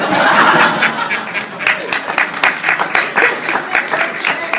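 A game show audience at a camp event applauds to cast a vote, a dense burst of clapping that fades, then swells again in uneven waves with scattered claps and faint crowd murmur.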